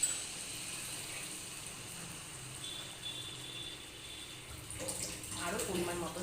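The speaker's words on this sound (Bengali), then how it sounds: "এবার আমি এই মশলা ধোয়া বাটির জলটা এখানে" Spice-bowl rinse water poured into a cooking pot of ridge gourd, potato and lentil-dumpling curry, a faint splash and trickle building toward the end over quiet kitchen background.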